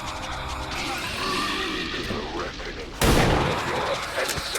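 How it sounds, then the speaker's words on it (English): A single sharp, loud pistol shot cracks out partway through a turn-based tactical mission in XCOM 2: War of the Chosen, sitting above a steady bed of in-game ambience. "That was a pistol shot."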